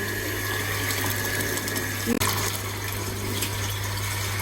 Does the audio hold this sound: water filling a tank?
yes